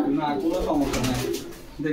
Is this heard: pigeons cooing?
yes